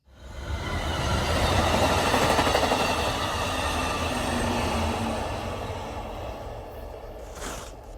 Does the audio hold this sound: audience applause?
no